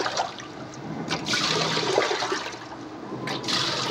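Water rushes steadily into an LG automatic washing machine showing a U12 error, a continuous hissing, gushing flow close by, swelling slightly midway.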